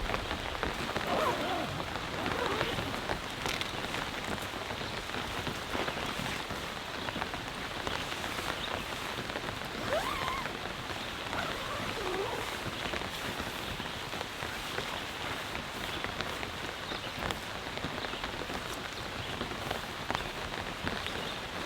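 Rain falls steadily on a OneTigris Stella tent after hours of downpour, a dense, even patter of drops on the fabric continuing throughout at moderate volume with no voices.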